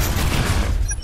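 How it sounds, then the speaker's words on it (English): Rapid auto-fire shotgun blasts in the video game Evolve, a dense, loud continuous volley of booming shots with no gaps for about a second. "The auto-fire shotgun deals bursts of damage at short range."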